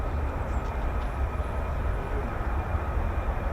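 A military jet rumbles at RAF Lakenheath, home of the 48th Fighter Wing's F-15s and F-35s, a low distant continuous roar with no voices over it.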